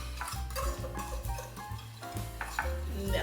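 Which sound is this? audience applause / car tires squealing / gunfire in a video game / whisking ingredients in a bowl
whisking ingredients in a bowl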